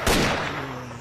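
A single loud gunshot goes off in S.T.A.L.K.E.R.: Shadow of Chernobyl inside Laboratory X16, a sharp close crack followed by a ringing, reverberant tail that slowly fades.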